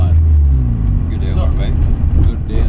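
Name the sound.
1979 Mazda 323 car driving on road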